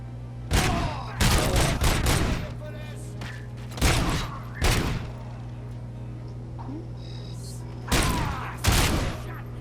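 Repeated bursts of gunfire in the video game Robocop Rogue City, loud clusters of rapid shots in several separate volleys over a steady low background hum.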